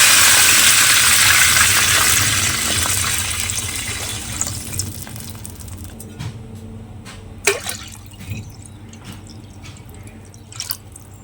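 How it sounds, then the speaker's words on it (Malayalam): Water is poured into a pot for biryani rice, starting as a strong steady gush that thins out into scattered drips and small splashes, close and without talk. "2 കപ്പ് വെള്ളം ഒഴിച്ച് വെക്കുന്നു."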